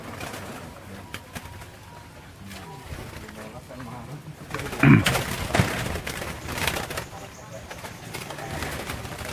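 Zebra doves (perkutut) at a breeding farm coo in soft repeated phrases, close by, while people talk and a louder burst of voices and movement rises midway.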